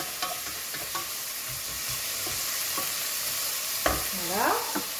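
Vegetables for Algerian berkoukes sauté together with onions in a pan, a constant near sizzle broken by sharp utensil scrapes and clicks as they are stirred.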